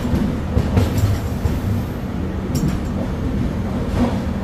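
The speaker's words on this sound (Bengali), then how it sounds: "22201 শিয়ালদা পুরী দুরন্ত এক্সপ্রেসের প্রবেশের মধ্যে দিয়ে পুরী ভ্রমণ শুরু করলাম" The 22201 Sealdah–Puri Duronto Express pulling into Puri terminal station, a loud steady low rumble of rolling wheels and coaches with faint rhythmic clatter, continuous and close.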